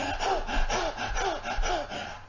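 A preacher imitates a thirsty stag panting, giving four rhythmic, breathy heaving gasps at close range with no words.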